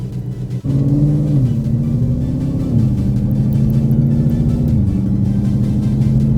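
A 1000+ horsepower Ford GT500 with upgraded clutches idles and rumbles low and steady from inside the cabin, a smooth droning hum with slight shifts in pitch and no voices.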